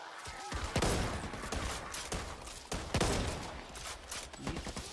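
Dense gunfire from the zombie shooter Back 4 Blood, with repeated loud shots and bursts crackling across the whole stretch, a few sharper heavy blasts standing out, and no clear talk over it.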